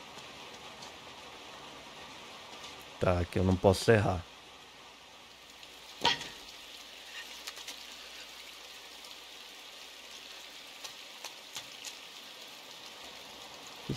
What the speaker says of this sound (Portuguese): O som dessa chuva é da hora.